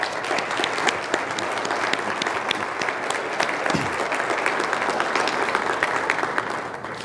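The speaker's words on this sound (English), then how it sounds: "let's give them a round of applause." Sustained audience applause fills the whole stretch, a dense steady patter of many hands clapping at a welcoming event, fairly loud and continuous, easing slightly at the very end.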